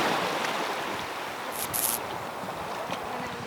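Ocean waves wash steadily onto a beach as a broad, continuous roar of surf, with some wind noise on the microphone and no one talking.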